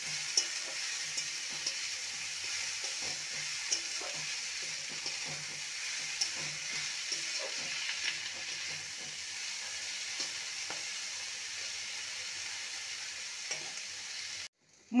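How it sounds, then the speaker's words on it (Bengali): Radish greens stir-fried in a pan, a steady close sizzle with frequent scraping and stirring clicks throughout, cut off abruptly at the end. "এবার দিয়ে দেবো মূলোর শাক। মূলো শাক দিয়ে ভালো করে নেড়ে নেব।"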